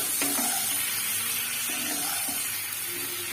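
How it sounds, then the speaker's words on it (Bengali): Boiled potatoes go into hot spiced oil and fry with a steady, close sizzling hiss that runs throughout, with light stirring and a few faint clinks. "এই তেলের মধ্যে আমি অ্যাড করে দেবো সেদ্ধ করে রাখা আলুগুলো।"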